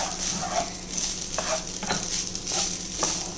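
Spinach corn rice being stirred in a pan, with steady close scraping and soft sizzling plus a few sharp utensil clicks against the metal, no voices.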